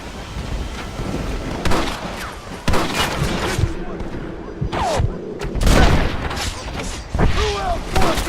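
Gunfire in the Western video game Red Dead Redemption, several sharp loud shots and booming blasts scattered irregularly over game ambience, with voices speaking in between.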